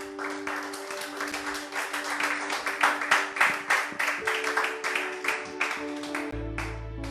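A church congregation applauding to acclaim the Lord, steady rhythmic clapping that swells and pulses for several seconds over a sustained organ or keyboard tone, with a low bass note entering near the end.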